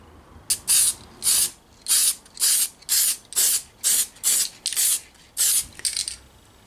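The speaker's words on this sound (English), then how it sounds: "and then I'm going to spray the white." White spray paint from an aerosol can applied to a Tamiya Subaru 2008 WRC RC car body in about ten short, evenly spaced, loud hissing bursts with brief pauses between them.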